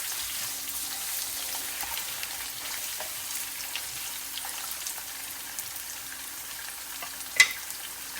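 Ginger frying in a pan with cumin for an amla, ginger and green chilli pickle, a soft continuous sizzle with a sharp clink of the spoon near the end and no talking.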